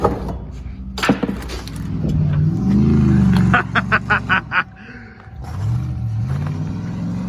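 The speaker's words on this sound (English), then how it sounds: "I don't know how much gas she burns just revving it up." A car engine revs and roars repeatedly while doing donuts in snow, with bursts of rising and falling revving and some rumbling, fairly close, with brief clattering noises in between.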